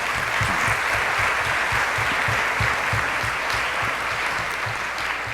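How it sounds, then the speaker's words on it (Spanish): Sustained, dense applause from a seated audience welcoming a speaker at a parents' school panel, steady and loud for several seconds with no voices over it. "le damos un fuerte aplauso de bienvenida"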